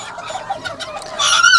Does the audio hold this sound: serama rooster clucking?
yes